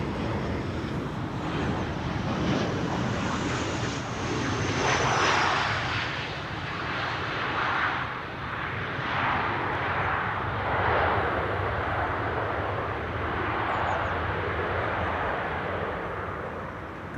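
A KLM Boeing 737-700 jet airliner at Amsterdam Schiphol, a loud sustained roar of jet engines with broad rushing noise that swells and ebbs over many seconds as the aircraft passes.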